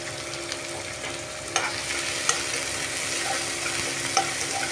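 Tomatoes sauté in oil in a pan, a steady moderate sizzle with a faint hum and occasional sharp clicks of a spoon stirring, no talking.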